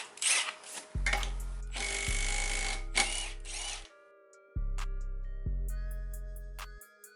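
A 12-volt Milwaukee cordless impact wrench hammers loose truck wheel nuts in several loud, close bursts, each a sustained rattling buzz lasting about a second, separated by short pauses.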